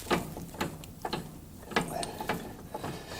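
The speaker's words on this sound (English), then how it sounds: "And a wrench. Let me tighten it up a little bit." Wrench ratcheting as it tightens a bracket during a suspension overhaul: a handful of close, uneven mechanical clicks and clatters with no speech.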